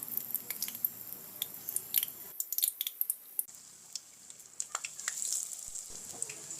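Gram-flour-coated pumpkin flower fritters sizzle in hot oil with a steady crackling hiss, punctuated by small pops and a few clicks of utensils, close and fairly quiet.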